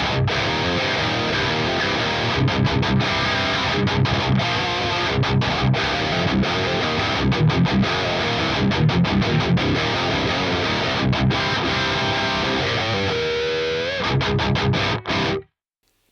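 Heavily distorted electric guitar through an Axe-Fx III Mesa Mark amp model with a Super Overdrive boost. It plays dense, saturated riffs with short choppy stops, loud and continuous, then cuts off abruptly near the end.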